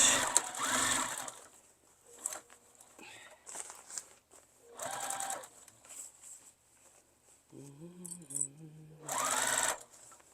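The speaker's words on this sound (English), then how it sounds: "Now I'm just going to hold it in place while I sew over it." Sewing machine stitching across a tote bag handle, bursts of rapid motor whirring in three main runs separated by quieter handling pauses, with a short low tonal hum midway; no talking.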